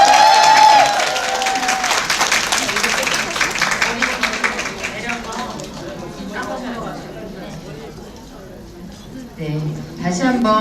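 An indoor audience at a seminar bursts into applause that fades over several seconds, with voices and a few claps lingering near the end.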